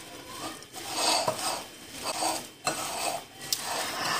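Potato filling being mixed with salt and roasted ground cumin in a bowl, heard as a steady rasping scrape of a spoon with a few sharper knocks against the bowl.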